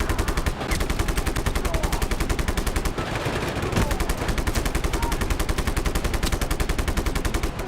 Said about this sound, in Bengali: সবগুলার এখন শুট করে মারবো একটাও বাঁচতে পারবে না হাতের থেকে